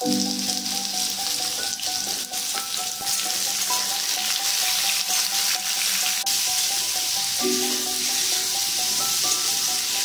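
Papaya and potato pieces, seasoned with turmeric and salt, sizzle steadily in hot oil in a wok, a loud, close, continuous hiss with faint occasional stirring and soft background music throughout.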